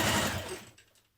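A sewing machine runs briefly, top stitching a pair of lounge trousers. The close, loud whir lasts about half a second, then slows and fades out.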